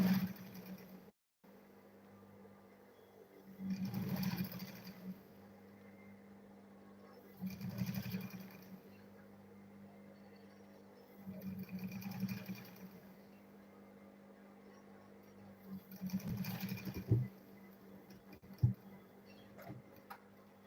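A sewing machine stitches leather for a school bag in four or five short runs spaced several seconds apart, each a soft, steady whir over a constant low hum.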